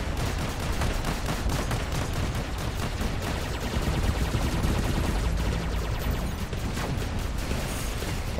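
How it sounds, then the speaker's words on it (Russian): Dense, continuous gunfire from robots in War Robots, rapid machine-gun bursts and heavy shots layered into a loud, unbroken barrage with mechanical clatter. "Прям по мне стреляют"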